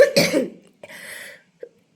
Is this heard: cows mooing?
no